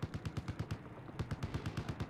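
Rapid automatic gunfire in Battlefield 4 on the Altai Range map, two fast bursts of loud sharp shots in a steady rhythm separated by a brief pause.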